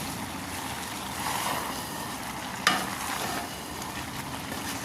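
Potatoes, eggplant and chopped tomatoes stirred together in a pan for a vegetarian ghati: a continuous soft sizzle with scraping strokes and one sharp clink of the utensil midway.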